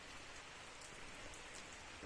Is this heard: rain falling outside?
yes